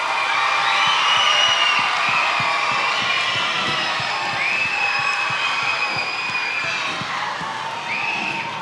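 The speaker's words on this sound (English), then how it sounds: "one last round of applause for Mr. Washington, please." A school audience at an intermediate school Black History Bowl cheers and shouts loudly, children's whoops and crowd roar filling the space with a few claps underneath, fading slightly toward the end.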